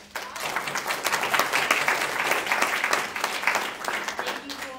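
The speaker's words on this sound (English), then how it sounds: "Give them a round of applause." A room full of people applauds at a community event, building quickly into a dense, even roar of clapping that holds steady for several seconds, with faint voices mixed in before it tapers at the end.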